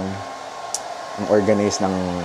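A hair dryer-style hand blower runs steadily inside the restroom of a capsule hotel in Dotonbori, Osaka, its constant whir sitting under a voice that speaks briefly midway.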